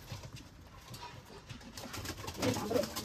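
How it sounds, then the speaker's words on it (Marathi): Pigeons for sale at a pigeon market coo softly and repeatedly amid a busy market murmur, growing slightly louder toward the end. "अब्बा सर मित्रांनो हा पण कबूतर आहे."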